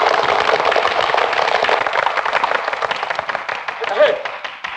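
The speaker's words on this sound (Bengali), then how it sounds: "এবার হাততালি।" A group claps in applause at a farewell gathering in a Bengali film scene, a dense, steady patter of many hands that holds for several seconds and then thins out toward the end.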